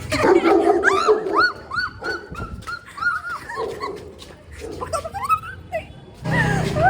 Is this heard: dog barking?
yes